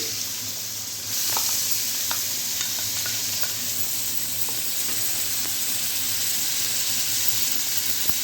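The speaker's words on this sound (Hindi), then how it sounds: "तो कढ़ाई में जी हम डालते हैं प्याज" Onions frying in oil in a kadai for a minced-meat masala, a steady loud sizzle that starts after a quiet first second, with occasional sharp spoon-scrape clicks from stirring throughout.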